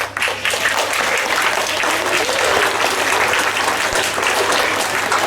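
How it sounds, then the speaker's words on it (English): Schoolchildren at a class assembly clapping for themselves, loud sustained applause from a whole group filling the room without pause from start to end. "Now clap for ourselves"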